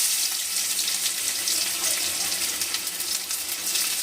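Finely chopped onion sizzles in hot oil in a pan for a Bengali potato Mughlai paratha, a steady, bright frying hiss with faint crackles throughout, fairly loud and close.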